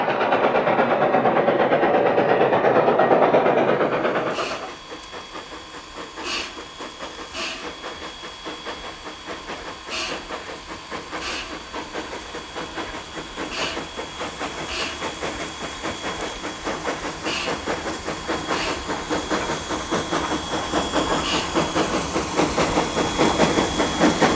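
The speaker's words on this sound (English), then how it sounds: "footage from 2011 of Rio Grande Scenic Consolidation No. 18 on her only trip across Colorado's La Vida Pass in the winter" Rio Grande Scenic Consolidation No. 18 steam locomotive crossing Colorado's La Veta Pass in winter: a loud close hiss of steam cuts off, then rhythmic exhaust chuffs and rail clatter roll on steadily as the train passes.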